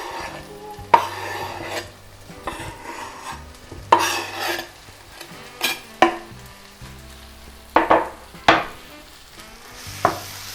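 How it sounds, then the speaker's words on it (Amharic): A lentil mixture sizzles in sautéed onion in a pan, with steady frying hiss broken by sharp scraping stirs of a utensil at irregular intervals, close and without speech. "ያቁላላነው ቁሌት ውስጥ እንጨምረዋለን"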